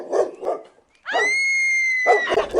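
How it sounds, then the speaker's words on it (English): German shepherd giving short barks and a long, drawn-out whine or howl, loud and close, with no one talking. "This is what it looks like when a German shepherd walks down the street."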